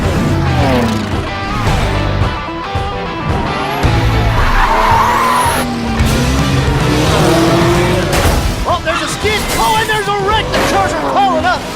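Race car tires skid and squeal in a racing video game, with long screeching sweeps and engine roar under music and a commentator's voice.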